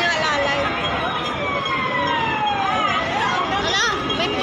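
A police siren wails through a busy Wan Chai street in Hong Kong, its rising and falling tone sweeping over steady street noise and nearby chatter.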